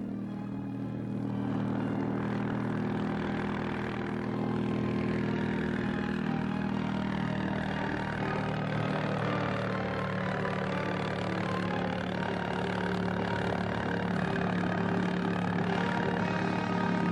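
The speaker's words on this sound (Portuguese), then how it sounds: "a potente aeronave entrava na pista a fim de levantar voo rumo à Ilha do Sal" A powerful 1957 propeller airliner rolls onto the runway and takes off for Sal Island, its engines roaring loudly and steadily from start to finish with no voices over them.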